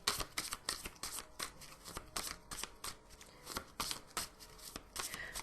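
Tarot cards being drawn and handled close up: a steady run of crisp, dense card riffles and flicks with fairly even rhythm over several seconds, no talking.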